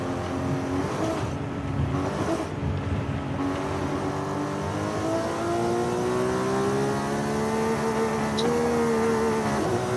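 Car engine in Forza Horizon 5, driven with a Moza R12 wheel and H-shifter, revs steadily and climbs in pitch through a gear, loud and continuous with no talk over it.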